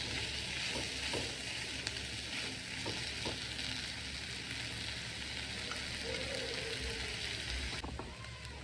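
Chicken liver with small coconut pieces sizzles steadily in a frying pan, with a constant hiss and occasional scraping of a spatula as it is stirred, close and continuous.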